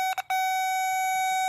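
An electrical tester on a 1983 Honda VT750 wiring harness gives a few quick electronic beeps, then one sustained steady tone that holds on, clear and close with nothing else around it.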